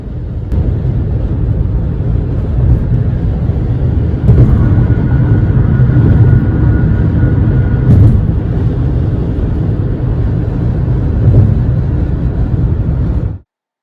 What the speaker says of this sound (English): It was quickly revealed that this train was a combined loaded coal and coke train